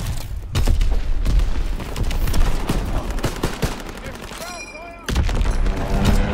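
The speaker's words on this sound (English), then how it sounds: "Fighter pilot ready for strafing run." Fighter aircraft strafing run in Call of Duty: WWII multiplayer on the Flak Tower map, rapid bursts of gunfire and booms with whooshing passes and a sharp swell of fire near the end, a game voice announcing over it.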